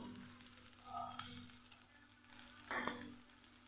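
Spiny gourd sizzles quietly in hot oil, a steady soft crackle with a couple of brief stirring scrapes, close by and with no talking.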